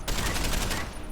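Rapid gunfire rattles through a short, dense burst in the video game Deus Ex: Human Revolution, loud and continuous before cutting off abruptly.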